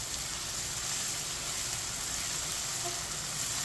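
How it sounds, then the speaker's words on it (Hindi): Crushed ginger and garlic frying in a hot pan give a steady, dense sizzle that holds at an even level throughout, close and continuous, with no speech. "अदरक और लहसुन को 2 मिनट के लिए पका लेंगे"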